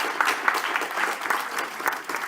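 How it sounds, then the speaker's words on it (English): A panel audience at a talk on artificial intelligence applauds its speakers, giving loud, dense, continuous clapping that holds steady and fades slightly toward the end. "Please, everyone, a round of applause for our speakers who are accompanying us here today."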